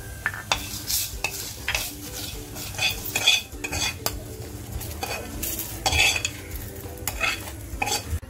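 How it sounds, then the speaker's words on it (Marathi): Garam masala being dry-roasted and stirred in the same kadhai used for coconut and onion, with steady scraping and clinking of a spoon against the pan under a faint sizzle, no talk. "त्याच कढईमध्ये हे गरम मसाले टाकते आणि भाजून घेते"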